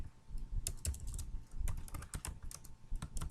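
Typing on a computer keyboard while setting up game event logic, a close run of quick, irregular key clicks with a few heavier presses, with no talking.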